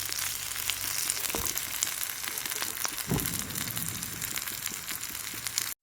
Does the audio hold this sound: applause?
no